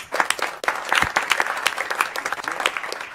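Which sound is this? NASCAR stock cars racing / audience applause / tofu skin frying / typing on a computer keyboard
audience applause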